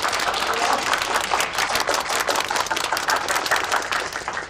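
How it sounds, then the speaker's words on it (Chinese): Dense, steady clapping from a gathered crowd of villagers welcomes the new head of the Zhao family, sustained at close range across the whole stretch without a break. "为我们老赵家新的当家人鼓掌"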